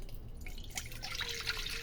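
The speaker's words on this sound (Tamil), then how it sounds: "இப்போது 2வது தண்ணியும் 3வது தண்ணியை தான் இதில் சேர்த்துக்க போகிறோம்." Water from rinsing rice, the second and third washes, poured into a container for soap making, giving a faint soft trickle and drip, with no one speaking.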